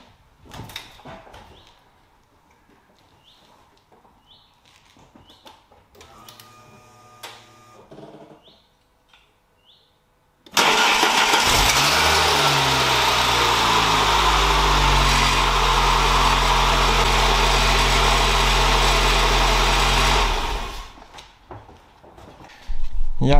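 A Saab 9000 with a previously burnt starter motor cranks and fires up, settling into a loud, steady idle for about ten seconds before shutting off, after quieter workshop noises.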